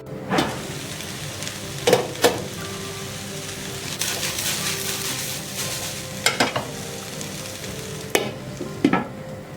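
Egg fried rice sizzling in a pan over high flame, a steady crackle like rain on a surface, with occasional sharp scrapes and clinks of the spoon as it gets stirred, close up and without speech.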